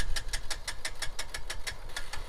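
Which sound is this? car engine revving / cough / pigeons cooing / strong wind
car engine revving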